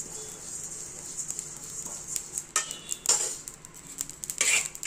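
Cumin seeds dry roasting in a pan while being stirred, a steady faint sizzle with intermittent scraping and rattling of the spoon against the pan, close, no talking.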